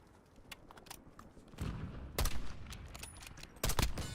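Magazine reload in the Black Ops 7 shooter game, heard as a few sharp clicking, clacking mechanical bursts against low background noise, with louder impacts near the middle and end.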